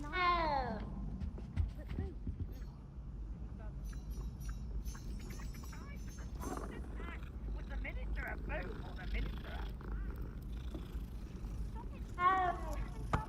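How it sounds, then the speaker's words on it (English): A cat in Hogwarts Legacy gives a clear meow as it is petted and then another near the end, with game ambience and someone speaking between the meows. "Gotta pet the cat."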